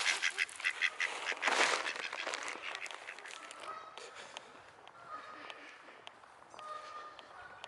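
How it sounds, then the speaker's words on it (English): Ducks in a park quack and jostle while being fed, a loud close cluster of quacks at first that thins out into scattered calls over steady outdoor background noise. "I can't feed ducks and talk at the same time."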